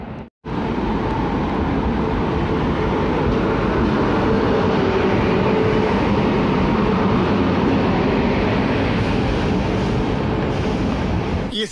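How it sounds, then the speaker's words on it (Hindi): A train rolling into a station platform, a steady loud rumble of wheels and carriages running continuously and close by, with no talk over it. "आ गई हमारी ट्रेन।"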